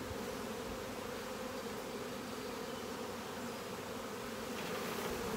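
Honeybees buzz steadily around an open beehive during a hive inspection, a dense continuous drone that holds at an even level throughout, with no voices.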